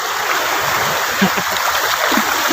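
Strong river current rushing at a net-casting spot, a steady close wash of water filling the moment with faint voices underneath.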